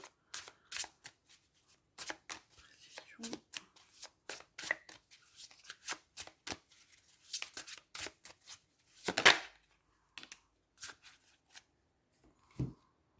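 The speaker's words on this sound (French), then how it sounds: "Je vais quand même retirer une carte pour avoir une précision" Tarot cards are shuffled and drawn up close, with quick riffling bursts, soft slaps and flicks in an irregular rhythm and a louder riffle partway through, with no voices.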